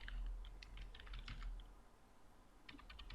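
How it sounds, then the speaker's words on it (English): Soft clicking keystrokes on a computer keyboard while entering text and numbers into a fillable PDF form, in short irregular bursts with brief pauses, quiet and close. "I type your text and number."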